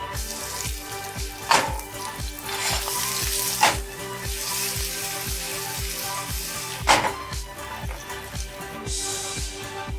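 Chopped garlic and ginger with a pinch of asafoetida frying in hot oil, a steady close sizzle with stirring strokes scraping through it, a few louder clanks, no talk.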